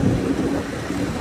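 Heavy rain pours steadily with a deep rumbling undertone, a dense continuous wash of noise outdoors.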